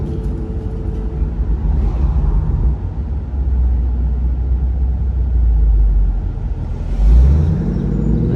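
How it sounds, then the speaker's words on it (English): Ford Mustang GT convertible with the V8 Coyote engine and 10-speed transmission cruising with the top down, a deep steady engine rumble with rising swells near the end, loud and close with no talk. "doesn't get better than a V8 Coyote under the feet"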